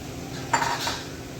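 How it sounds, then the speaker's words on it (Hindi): Onion added to a cooking pot with trotters for paya, heard as a faint metallic clink and scrape of utensil against the pot over a quiet background. "अब हमने इसमें ऐड कर देना है प्याज"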